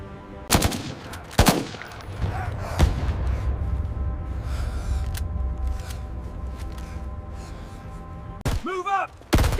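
Gunfire cracks out as loud, close single shots and short bursts in a coastal combat setting, spaced irregularly over a rumbling background, with shouted voices breaking in near the end.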